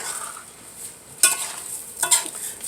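Rice being stirred in a pot before the water goes in for red rice with pigeon peas, a steady faint sizzle with two sharper scraping bursts as the grains are pushed around.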